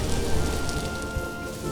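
Heavy rain hisses steadily over the surface during a storm in the video game Vintage Story, a dense, loud, unbroken wash with no speech.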